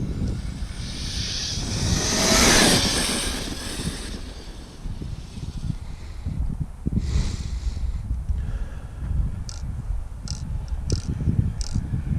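An Arrma Kraton EXB 1/8-scale RC car tears across grass with a steady, rushing electric-motor roar that swells and fades as it passes, with no voices heard.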